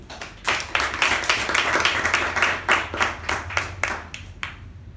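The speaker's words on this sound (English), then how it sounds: "a round of applause for her" Audience applause at a Toastmasters meeting: a room of people clapping steadily and fairly close for several seconds before it tapers off near the end.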